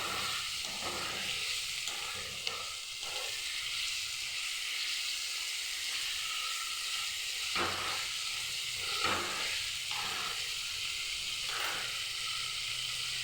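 Pointed gourd (potol) sizzles in hot oil and spice paste for a potol kasundi, a steady bright frying hiss with occasional scraping stirs of a spoon against the pan, close and alone without talk.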